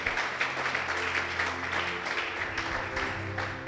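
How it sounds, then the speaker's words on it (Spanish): A church congregation claps and applauds during a sermon, a steady crowd of hand claps sustained at an even, fairly loud level from start to finish. "Dale un aplauso al Señor"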